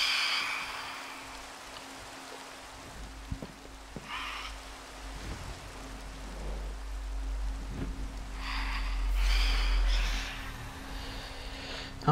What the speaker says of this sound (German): Ach ja, noch regnet es.